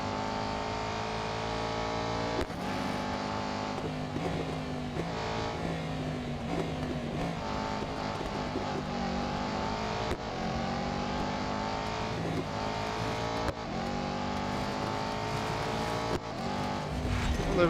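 Race car engines in the Real Racing 3 video game drone steadily throughout, their layered harmonic whine shifting in pitch as cars hold speed together, loud and continuous with brief dips in intensity.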